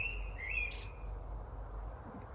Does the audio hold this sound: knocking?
no